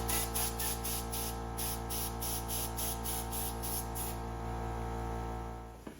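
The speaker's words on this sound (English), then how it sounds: "I stick the air nozzle near the inside and give it some air" Compressed air hisses steadily from a nozzle pushed under a motorcycle handlebar grip, a close, even blast with a faint pulsing flutter that tapers off at the end.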